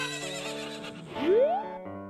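A horse whinnies in Zelda: Ocarina of Time (Master Quest, GameCube), a short rising neigh over steady background game music, fairly close and clear with no talking.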